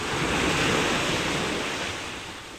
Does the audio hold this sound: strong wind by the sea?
yes